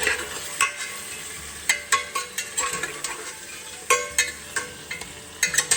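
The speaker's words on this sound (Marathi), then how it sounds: "हे चिकन आहे ना असं मस्त तेलामध्ये चांगलं म्हणजे खूप चांगलं फ्राय होऊन द्यायचं" Chicken fries in oil with masala, a continuous sizzle broken by sharp scrapes and clicks of a spatula stirring against the pan at irregular intervals, close and without talk.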